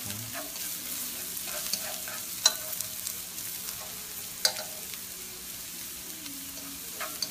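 Lemongrass, turmeric and garlic stir-fried in a pan while braised scad is being prepared, a steady low sizzle with soft scraping and a few sharp clinks of a utensil against the pan, fairly quiet throughout.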